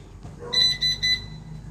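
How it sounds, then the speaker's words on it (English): A building alarm system at a historic mission church sounds three loud, steady electronic beeps in quick succession, each lasting about a quarter second, close and clear over a quiet room. "It's the alarm system."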